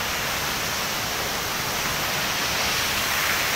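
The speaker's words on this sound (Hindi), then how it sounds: "तो झरना देखिए ऊपर से गिर रहा है नीचे" The waterfall at Tiger Point in Mainpat, Chhattisgarh, pours down with a loud, steady, hissing roar of falling water that fills the whole stretch without a break.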